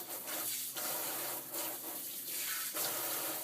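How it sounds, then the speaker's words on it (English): Water running steadily from a tap into a sink during cat grooming, a continuous hiss with slight surges, fairly close and moderately loud, with no talk. "put the stopper in the sink"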